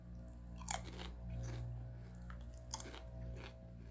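Lay's Spicy Lobster potato chips being bitten and chewed close up, with two sharp crunchy bites followed by softer chewing crunches, quiet and without talk.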